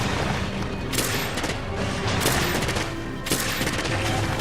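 Repeated shots hitting Rathian in Monster Hunter World, a dense barrage of loud impacts and booms with a few stronger hits standing out, close and continuous without speech.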